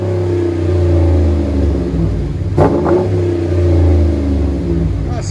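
Deep, throaty rumble from a RAM 1500 5.7L Hemi fitted with Flowmaster Outlaw exhaust, swelling through a couple of rev blips close by, with a voice briefly over it.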